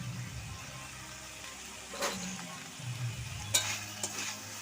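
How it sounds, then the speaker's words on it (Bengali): Greens with chopped green chilies stirred in a hot pan for a vegetarian Bengali potol posto, soft sizzling frying under a few louder scraping stirs, close and steady. "ভালো করে একটু নাড়াচাড়া করে নেবো"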